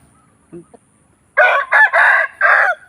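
A rooster crows close by, a loud multi-part call in several bursts, preceded by a couple of faint short sounds.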